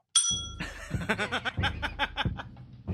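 A bright bell ding rings out once, followed by bursts of chuckling and laughter from a nearby group.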